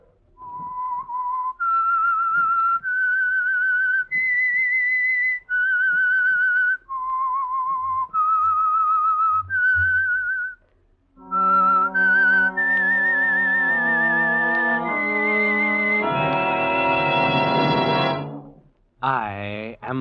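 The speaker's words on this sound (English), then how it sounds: "That whistle is your signal for the Signal Oil Program" A clear, melodic whistled tune plays alone, with sustained notes rising and falling in short phrases and a brief pause before a longer, richer passage.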